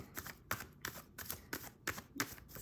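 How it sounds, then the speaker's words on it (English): Tarot cards are shuffled by hand in a steady series of crisp riffling bursts, about eight in quick rhythm, close and quiet, with no talk. "let's definitely shuffle that stuff."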